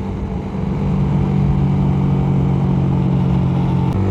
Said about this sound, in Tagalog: Iyak na iyak yung motor natin dito guys